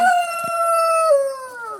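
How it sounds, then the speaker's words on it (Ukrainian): A rooster crows once in a garden in hot September weather, loud and close, a long drawn-out call that bends downward at the end. "наш півень він не може мовчати, коли я говорю"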